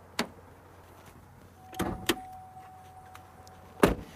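A car's hood release is pushed and the hood pops, heard as a few sharp close clunks and thuds spread over several seconds, with a faint steady hum in between and no speech.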